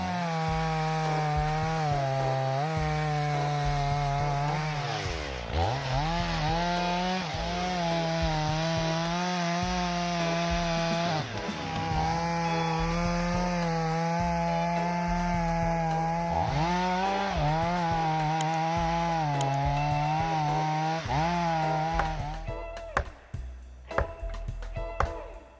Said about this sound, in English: Listening to the roar of the engine in the forest, we can see the powerful working power of this chainsaw.